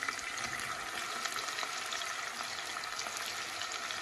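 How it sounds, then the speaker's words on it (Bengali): Onions sizzling in hot oil in a pan, a steady crackling hiss that stays even and moderately quiet throughout, with no talking. "তেলটা গরম হোক দেখো। গরম হয়ে গেছে, আমি পেঁয়াজ দিলাম দেখতে পারা।"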